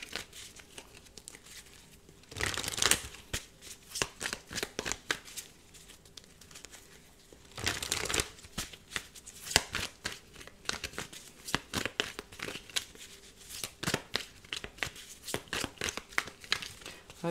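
Tarot cards are shuffled in bursts of crisp riffling and flicking, with longer rapid ruffles and shorter soft taps between them, close and fairly quiet.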